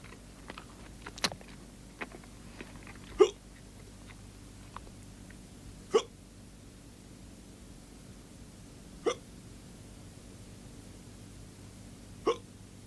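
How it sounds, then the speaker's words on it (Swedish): A child hiccups after eating freshly baked bread, with sharp, isolated hiccups spaced a few seconds apart in a quiet room and faint small noises between them. "Man kan få hicka när man äter nybakat bröd."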